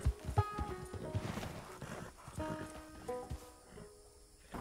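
A horse in Red Dead Redemption 2 gallops in quick, close clip-clop hoofbeats, snorts and whinnies once, then skids into a sliding stop as the hooves slow and scrape to a halt.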